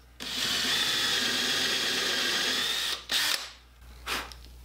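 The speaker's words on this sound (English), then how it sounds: "You can drill a hole" A power drill fitted with a countersink bit bores a hole with a close, steady whine for about three seconds, then stops; short bursts of trigger revving and handling noise follow.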